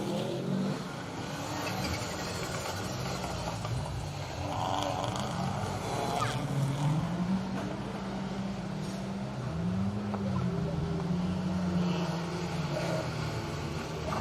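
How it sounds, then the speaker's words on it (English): Rally cars in the final stage of a circuit rally at Cadwell Park. Engines drone and rise and fall in pitch as the cars pass at a distance, over a constant background rumble. "The cars are still making their way through this final stage of the day."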